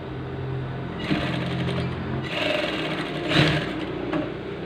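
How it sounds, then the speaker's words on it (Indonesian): A sewing machine stitches the neckline facing of a gamis dress, close and steady, its rapid mechanical chatter running in several short bursts with brief pauses between them. "Setelah ini kita jahit ya teman-teman."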